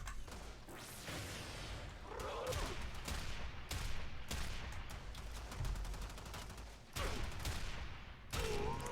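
Hek shotgun in the Warframe video game firing seven shots in quick, uneven succession, each a loud close blast with a whooshing tail, over dense game effects and background noise.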